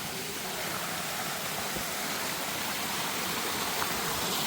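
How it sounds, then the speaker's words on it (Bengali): A small waterfall at Tanguar Haor in Sunamganj pours in a steady, dense rush of water, loud and constant throughout with no pauses. "ছোটখাটো ঝর্ণা কিন্তু মোটামুটি সুন্দর।"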